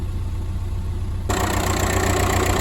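A car engine idling during a roadside alternator charging check, a steady low rumbling hum that jumps louder and brighter about halfway through, then holds constant with no talk.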